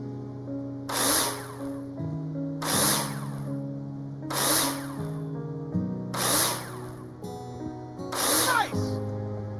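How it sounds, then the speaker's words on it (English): A power drill in a building simulator game drives nails into plasterboard in five repeated bursts, each a loud whirring spin followed by a pause, over a low steady background tone. "Take your drill out and screw them in."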